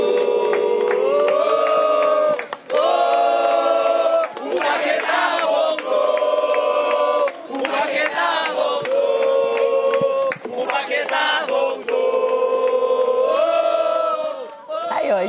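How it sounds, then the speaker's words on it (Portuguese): Flamengo football supporters chant a song for Paquetá in a loud crowd, voices singing in rhythmic repeated phrases with brief dips between lines. "Vamos encerrar com a música pro Paquetá"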